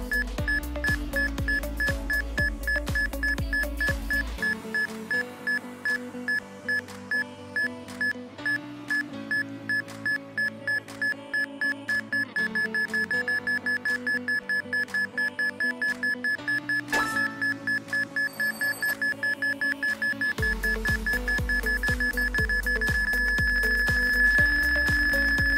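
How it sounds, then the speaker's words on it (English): Repeated electronic beeps from a metal detector in a video game hunting for a blonde pigtail item, a steady high tone pulsing at varying speed over looping game music, loud and close throughout. "You could hear it beep, and when it's brighter and beeping faster,"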